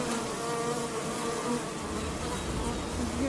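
Honeybees crawl over a brood frame lifted from a beehive, making a dense, constant buzzing drone heard up close with no pauses.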